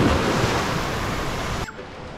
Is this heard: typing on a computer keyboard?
no